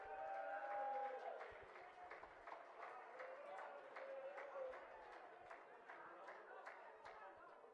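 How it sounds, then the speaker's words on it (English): Applause and crowd chatter for a birthday at a BDO darts 6 Nations Cup event, a sustained patter of many hands clapping with voices mixed in throughout. "I'd like you all to join me in a round of applause as we wish Jennifer Donachie a very happy birthday."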